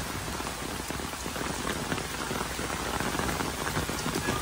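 Steady rain falls outdoors on a rock-formation sightseeing spot in Taiwan, a dense, even hiss of drops on surfaces that holds at the same level for the whole stretch, with no voices over it.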